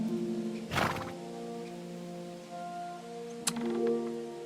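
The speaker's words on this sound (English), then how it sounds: "Mighty good horse there." Horse in the video game Kingdom Come Deliverance II giving a short neigh and a later snort over a steady tonal background music hum, with a soft clip-clop of hooves.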